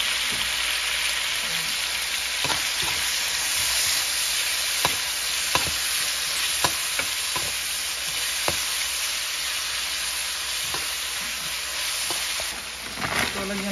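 Garlic fries in a pan for monggo beans with a loud, steady sizzling hiss, broken by scattered sharp clicks of stirring, close to the pan throughout.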